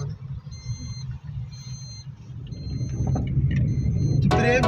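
A car drives along a mountain road, its engine rumbling low and steady from inside the cabin, with faint intermittent beeping tones over it. The rumble grows louder toward the end, closing in a brief rattling burst.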